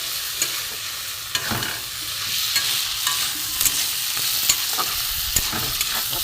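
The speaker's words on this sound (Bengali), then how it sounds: "মাছটার সাথে এটা আমি কষে নেবো ভালো করে মশলা দিয়ে।" Lote fish frying with spices in a pan, a steady sizzle punctuated by repeated scraping and clacking of a spatula stirring, close and continuous with no talk.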